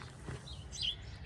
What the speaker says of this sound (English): birds are super loud, chirping, so happy